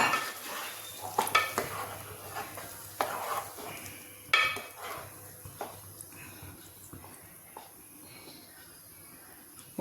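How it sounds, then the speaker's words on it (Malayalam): Brinjal and potato curry is stirred in a pan. A spoon scrapes and knocks against the pan in irregular strokes over a soft sizzle, with a few sharper clanks and no talking. "നമുക്കൊന്ന് ഇളക്കാം."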